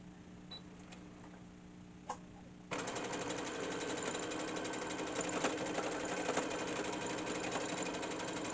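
A sewing machine stitches a dish towel: after a few faint clicks, the motor kicks in with a steady, fast mechanical whir and rapid needle chatter that continues evenly to the end, close and alone.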